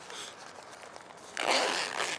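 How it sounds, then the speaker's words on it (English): A zipper on a vehicle first aid kit pouch rasps open nearby, with soft handling before a louder, quick zip pull near the end. "So here you have a zipper."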